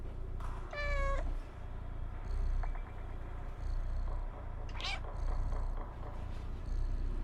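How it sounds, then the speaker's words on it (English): Cat meows in the video game Stray: a clear, close meow near the start, then a shorter chirpy meow and a later squeaky cry, over a steady low background rumble. "Could do little sleeping meows!"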